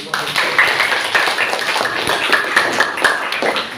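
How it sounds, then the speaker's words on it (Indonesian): A classroom audience applauds a student group with a steady patter of many hands clapping at close range, continuous for a few seconds with faint voices beneath. "Kita berikan tepuk tangan dulu."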